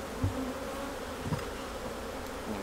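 Bees buzz steadily around an open beehive during a hive inspection, a close, continuous drone with a few louder passes as individual insects fly near.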